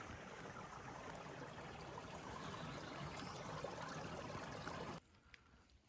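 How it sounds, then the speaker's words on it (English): An underground stream on the Appalachian Trail between Marion and Pearisburg, its hidden water giving a steady, soft rushing flow that cuts off abruptly near the end and leaves quiet air. "Here's an underground stream. Can't see any water anywhere, but can hear it."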